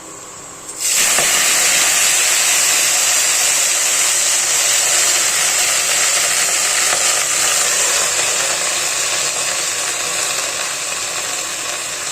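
Vegetables drop into oil browned in a hot pan, and a loud, broad sizzle bursts in at once and holds steady and close for the rest of the clip.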